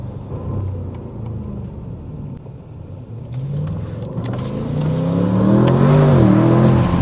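A 2023 Audi S8 engine heard through open windows, cruising at first, then swelling into a rising, throaty acceleration that grows louder toward the end, with road noise and no talk.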